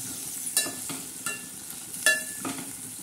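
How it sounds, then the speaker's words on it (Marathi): Semolina for upma roasts with salt in a pan, a soft dry sizzle broken by a few sharp scraping strokes of a spoon stirring it, close and without speech. "मस्त असं हे भाजत आहे।"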